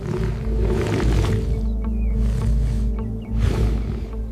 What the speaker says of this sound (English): She roars not to attack, but to ask for help.